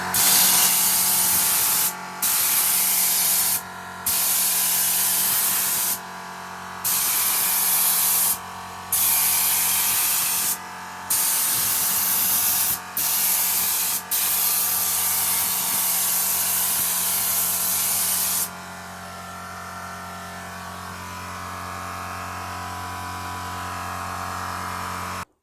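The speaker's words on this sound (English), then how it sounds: "there's quite a lot of overspray from that, but I think I've got the air up too high really" Paint spray gun running at high air pressure: a loud, close hiss in repeated bursts of one to three seconds separated by short gaps, then one long continuous spray that cuts off, leaving a low hum from the compressor.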